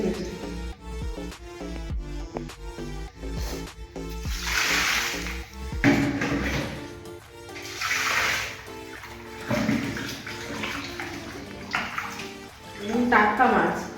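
Cut pieces of a roughly 2 kg catla fish rinsed in water, with splashing and sloshing bursts that recur through the stretch, all under steady background music.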